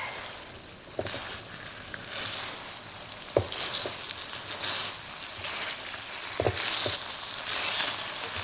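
Ground beef kabab fries in vegetable oil in a pan over medium heat, a soft continuous sizzle broken by a few sharp knocks and scrapes of a utensil against the pan.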